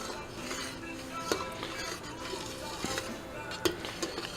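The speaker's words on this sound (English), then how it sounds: "still stirring. This stuff is coming to a boil quick." Pindo palm jelly being stirred in a pot on the boil, a steady scraping swirl with occasional sharp clinks of the utensil against the pot rim, close and moderately loud with a faint sizzle underneath.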